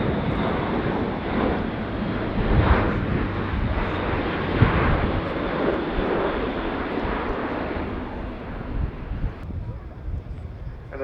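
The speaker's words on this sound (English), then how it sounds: "And another role of the A400M is air-to-air refuelling." An Airbus A400M military transport aircraft displays at RIAT 2019 airshow, its turboprop engines a loud, continuous broadband roar with wind buffeting, under a commentator's voice.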